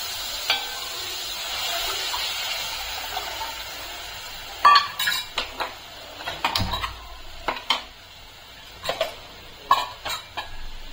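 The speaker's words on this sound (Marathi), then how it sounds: "आपण हे वाटण केलेलं याची फोडणी देऊया" Ground spice paste with curd is added to hot ghee with curry leaves for tempering, followed by sharp splutters and clattering spoon-on-pan strokes over a low background hiss, close by.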